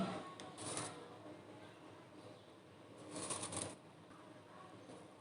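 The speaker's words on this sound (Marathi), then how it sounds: "आता यावर मी शेव ॲड करणार आहे ही थोडी आपल्याला अशी स्प्रेड करून घ्यायची आहे" Crisp sev scattered and spread over a potato cheese sandwich, giving two soft bursts of light rustling and crackling, close and quiet, with no one talking.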